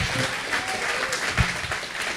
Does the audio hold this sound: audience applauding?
yes